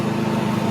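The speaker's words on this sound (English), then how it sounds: "I got my neighbor who's perpetually on his lawnmower" A neighbor's lawn mower runs outside as a steady, droning engine hum, continuous and fairly loud, with no voices.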